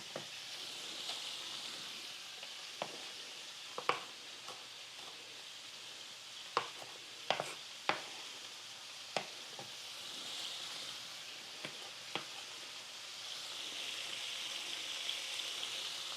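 Chopped vegetables for a ground beef dish sizzle in a skillet with a soft steady hiss, broken by scattered spatula taps and clicks throughout, fairly quiet and close, with no one speaking.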